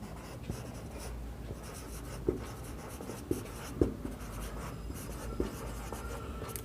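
Pen on paper during a statistics lesson, quiet scratchy strokes with a few sharper taps, close and faint, continuing without talk.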